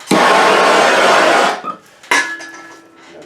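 A heat gun blows a loud, steady hiss for about a second and a half while warming vinyl wrap on a shower door handle. It cuts off, then a quieter clatter and a fading hum follow.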